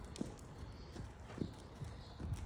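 Horse hooves canter on the ground in a steady three-beat rhythm, each footfall a soft, close thud, with light background noise and no talking.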